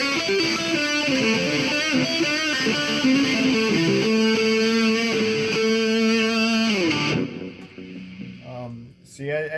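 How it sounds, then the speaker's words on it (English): A distorted electric guitar plays sustained, gritty chords and bends, loud and close, before cutting off into a few scattered notes near the end. "here's the dirty tones with the distortion"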